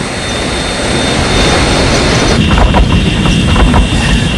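A dramatized airliner jet engine in flight, the number 3 engine disintegrating, rendered as a loud continuous roar with heavy low rumble that intensifies and turns rougher partway through, with no voices.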